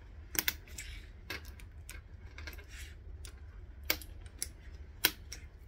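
Plastic snaps clicking into place on a sewn bag: a handful of sharp, close, isolated clicks spread unevenly over a quiet background, with the loudest near the end.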